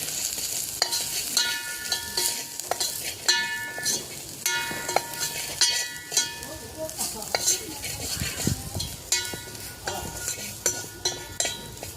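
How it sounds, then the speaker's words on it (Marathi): Bajra (pearl millet) flour being roasted and stirred in a pan, a steady soft sizzle with repeated scraping strokes of a utensil against the metal, close and moderately loud throughout. "आता हे बाजरीचं पीठ घेतलेलं आहे आणि ते पण याच्यात भाजून घेते."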